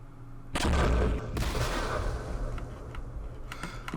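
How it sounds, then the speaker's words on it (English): Mortar rounds landing in Campaign Series Vietnam, two sharp heavy blasts followed by a rumbling roll of explosions and scattered distant impacts, with no voices. "And there's mortars there."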